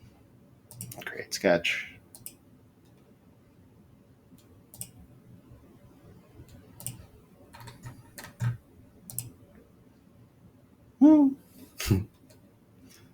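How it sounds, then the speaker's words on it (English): Computer mouse clicking while working in CAD software: a few sharp, close clicks spaced unevenly, some in quick pairs, with a voice speaking briefly over them. "Sometimes I click too quick."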